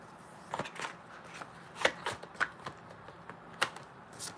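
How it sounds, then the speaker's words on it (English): Tarot cards are shuffled by hand in a series of quick riffling bursts and soft snaps, irregularly spaced and heard up close in a quiet room. "I'm going to shuffle 2 more times because we're almost at 7 shuffles."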